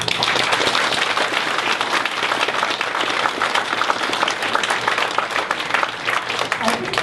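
An audience at a small business and community awards event in Grand Forks, BC breaks into sustained, loud applause that fills the room throughout.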